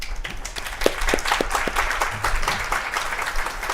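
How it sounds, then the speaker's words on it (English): An outdoor campus celebration audience applauds the student government, a close, loud burst of many hands clapping with distinct individual claps, continuous throughout. "I want to give a big round of applause to our student government"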